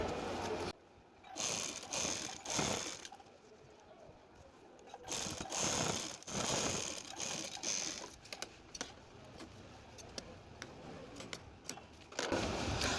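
A sewing machine stitches the hem of a sleeve in tailoring work, its motor whirring in steady bursts of several seconds broken by short pauses, close and fairly loud with no talk.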